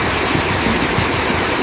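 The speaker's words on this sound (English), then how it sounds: "Boeing 787 Dreamliner undergoes successful final ground engine runs." Boeing 787 Dreamliner jet engines running on the ground during final engine runs at the factory ramp, a steady, loud, broadband roar with a thin high whine and no break.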